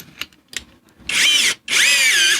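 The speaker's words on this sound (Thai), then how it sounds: "ชุดสว่านเหมือนเดิมครับ ชุดสว่านตัวนี้ก็เอาอยู่นะครับ" A power drill bores into an exhaust manifold stud hole, enlarging a stripped M8 thread toward M10, in two sustained loud whining bursts after a few faint clicks and knocks.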